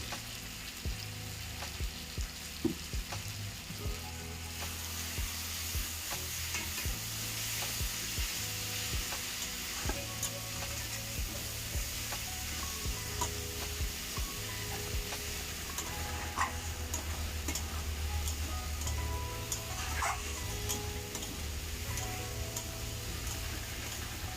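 Spice paste sautéing with water in a pan for Bengali Tangra fish curry, a steady close sizzle and bubbling frying sound with occasional light stirring ticks throughout.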